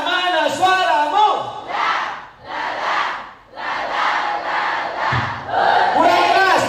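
A crowd shouts back in loud unison bursts in response to a call, with several roaring chants separated by brief pauses and a single voice leading between them.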